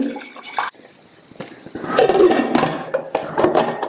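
About a cup of water splashes into a pressure cooker holding drained, cut potatoes in a home kitchen, with a short pour, then metallic clatter and a longer gush of water, all close by.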